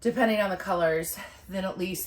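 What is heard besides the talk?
None of the usual background noises is heard.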